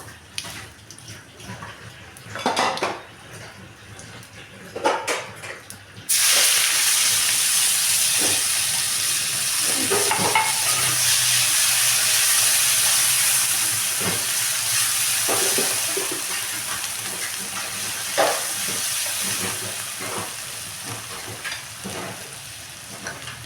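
Grated onion and garlic hit a pan of cumin seeds frying for a katla fish curry; after a few quiet clinks, a loud, steady sizzle bursts in and hisses continuously to the end, with no voices.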